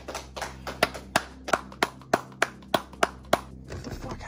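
A single person clapping hands during a film shoot, about a dozen distinct, fairly close claps in a loose steady rhythm, with a faint background hum.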